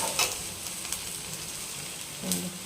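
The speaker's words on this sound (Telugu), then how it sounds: "బాగా కలర్ వచ్చేసింది కదా, బ్రౌన్గా బాగా వేగిపోయినాయి" Ivy gourd (dondakaya) pieces fry in a pan with a soft continuous sizzle, broken by a couple of brief scraping stirs near the start and end; fairly quiet and close, with no clear speech.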